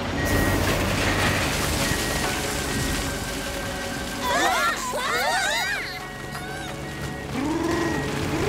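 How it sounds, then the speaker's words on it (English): A garbage truck's reversing beeps repeat steadily amid rumbling and hiss, with brief voices and other noises partway through. "What's that beeping? It's a garbage truck!"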